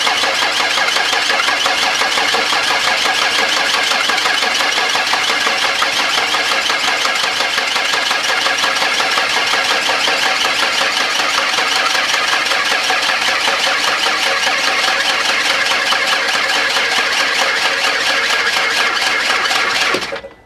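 A 1992 Ford Explorer engine, sitting unused since the late 1990s, cranks loudly and continuously for about twenty seconds in a dense, steady mechanical churn that cuts off abruptly, with no voices.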